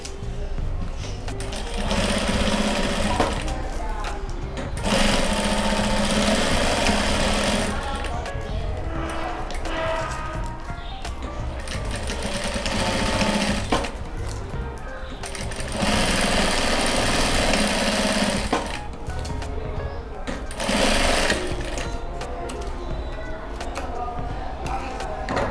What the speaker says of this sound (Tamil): இதை வந்து சுற்றி 4 பக்கமும் தைக்க போகிறோம்